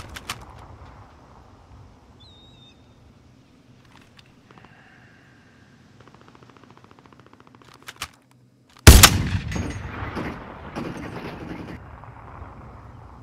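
Burst of video game shooter gunfire: after a quiet stretch with faint clicks, a loud sudden volley of rapid shots erupts and continues in a dense, echoing barrage before tapering.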